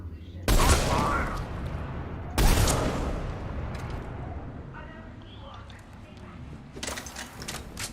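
Gunfire in Mass Effect 3: two sharp, loud blasts early on, each trailing into a rumble, then quieter scattered bursts and a late flurry of shots toward the end.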